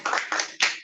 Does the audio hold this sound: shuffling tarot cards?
no